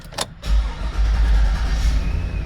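A 2003 Chevrolet Tahoe with a 4L60E transmission fault cranks and catches after a brief click, its engine settling into a loud, steady idle rumble close by.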